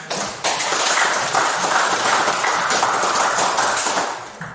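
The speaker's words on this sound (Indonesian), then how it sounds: "Kita beri aplaus untuk Daud yang sudah." A small group claps in applause for Daud right after a prayer, a dense steady patter of hands that starts abruptly and carries on for several seconds before tapering off, with no voices over it.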